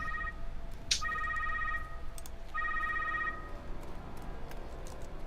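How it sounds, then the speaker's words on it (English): Electronic telephone rings in the Secret World Legends game sound in repeated trilling bursts, two clear ring cycles with overlapping tones suggesting several phones, over a steady low ambient hum. "it sounds like there are multiple phones ringing."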